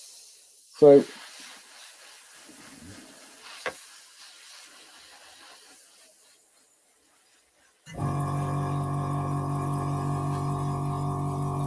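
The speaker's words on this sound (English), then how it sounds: "this just sprays absolutely amazingly" A scale model is spray painted: after a short spoken word and a few faint brief noises, a loud, steady hiss of spray starts abruptly and runs close-up through the final few seconds.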